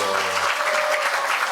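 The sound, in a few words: applause at a recitation contest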